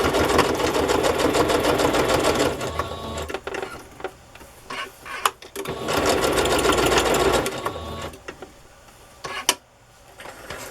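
A sewing machine stitches a zigzag across a paper craft tag, running in two long, steady mechanical bursts with short stops and clicks between them, close and clear.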